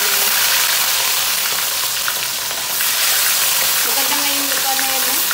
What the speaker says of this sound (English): nagpapainit na kami ng oil para i-fry muna yung tulingan